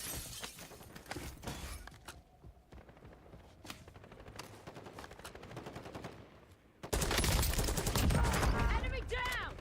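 Intermittent bursts of gunfire from a bot enemy in the video game Warzone, sharp, separated cracks scattered across the clip, ending in a louder, denser stretch of shooting.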